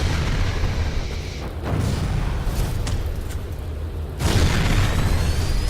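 A time bomb going off in the superhero game Champions Online, loud booming blasts with a big low rumble, one near the two-second mark and a heavier explosion later, amid ongoing combat noise.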